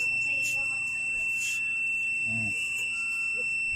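A steady high-pitched electronic buzzer tone from a rechargeable styrofoam cutter drones continuously throughout, with faint background noise and occasional low thumps.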